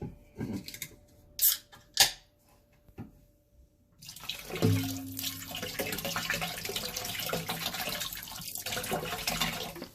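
Beer from a 24-ounce can pours into a pot of corned beef: after a few clicks and clanks, a steady splashing, fizzing liquid stream runs for several seconds at moderate volume.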